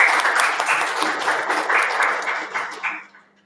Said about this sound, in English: So, huge round of applause again for Pushkar.